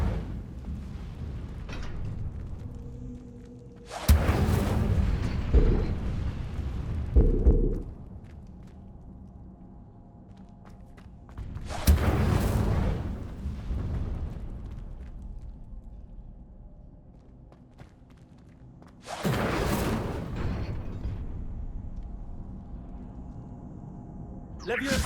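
Hogwarts Legacy Incendio fire spells cast repeatedly, three loud whooshing fiery bursts spaced several seconds apart, each a broad roaring flare that fades into quieter background game ambience between casts.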